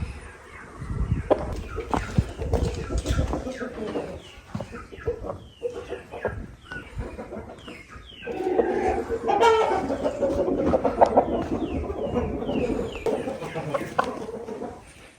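Hens heavier than four kilograms, looking to lay eggs, cluck repeatedly nearby in bursts, with busy overlapping calls and a rooster-like cry among them.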